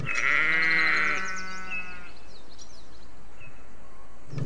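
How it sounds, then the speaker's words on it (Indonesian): A goat lets out one long, loud, wavering bleat up close, followed by a few seconds of near quiet. "lihat lihat teman-teman wow itu ada kambing"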